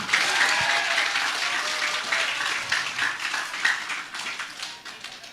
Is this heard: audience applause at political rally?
yes